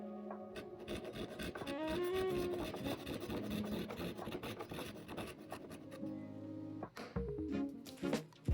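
A hand tool rasps steadily across wooden cabinet parts, trimming them to fit in a continuous scraping rhythm, with musical tones running underneath.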